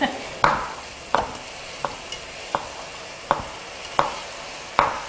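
Vegetables for bean sprout japchae stir-fry in a pan, a low sizzle broken by about eight sharp scrapes and clacks of a utensil against the pan at irregular intervals, close and moderately loud.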